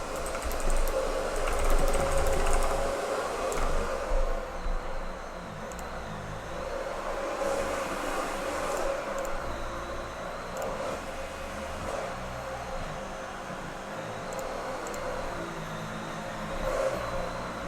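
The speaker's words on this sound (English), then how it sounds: "They started vacuuming the floor" A vacuum cleaner runs steadily in the background of a room, a continuous broadband whir with a faint tonal whine that holds at a moderate level throughout, without pauses.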